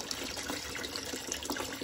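Water rushes steadily through the low water cut-off on a MacDonald 67-equipped steam boiler during a flush, a continuous close gurgling flow without pause.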